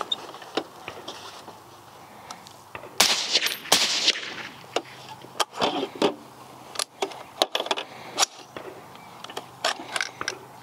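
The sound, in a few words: suppressed PSA Sabre 10 rifle firing, gas setting 3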